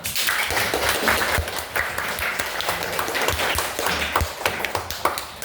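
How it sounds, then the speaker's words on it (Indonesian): A class clapping together for a student called to the front, brisk continuous hand claps in a room with a few sharper individual slaps standing out. "Tepuk tangan dulu Bang."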